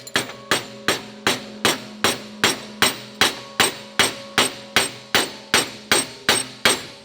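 Steady metal hammer blows knock a part out of its housing while a destroyed supercar is rebuilt, about fourteen evenly spaced sharp strikes, loud and close, each with a ringing tail.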